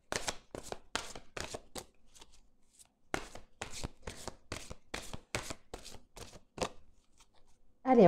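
Tarot cards are shuffled in quick bursts of sharp, riffling flicks, followed by a brief pause and then more rapid shuffling and a cut, close and crisp with no talk.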